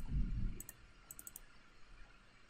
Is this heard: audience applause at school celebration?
no